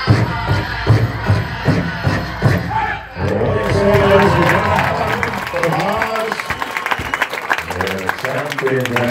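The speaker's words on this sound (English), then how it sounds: "Ladies and gentlemen, how about a big round of applause" Crowd at a powwow dance competition claps and cheers, with rhythmic thumping and vocal chanting at first, then a swell of applause and shouts with voices mixed in.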